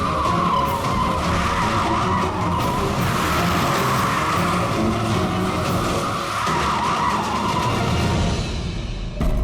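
A car with a rear tyre problem skids continuously, a loud sustained tyre squeal over engine noise that holds for several seconds and fades near the end, with no one speaking.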